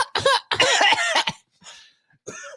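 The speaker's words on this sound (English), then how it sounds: "Cough like the bitch you are." A man coughs in a few harsh, close bursts separated by short pauses during a casual podcast recording.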